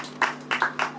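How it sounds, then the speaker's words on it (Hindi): A church congregation claps to thank God, three short bursts of applause about a third of a second apart, fairly close over a steady background hum. "आइए परमेश्वर को हम धन्यवाद दें ताली के द्वारा"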